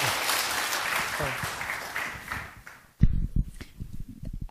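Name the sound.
audience applause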